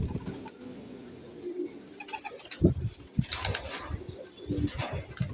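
Restless racing pigeons in a cage coo softly and flap their wings in sudden bursts, with sharp scuffling thumps and rustles breaking up the low calls.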